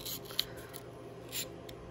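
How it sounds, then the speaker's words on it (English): A hobby knife scrapes and cuts into the plastic shell of an N scale Atlas GP7 locomotive, giving soft close rubbing rasps with one small sharp click and a brief rasp later, no talk. "I may have to break out the hobby knife and get into it here"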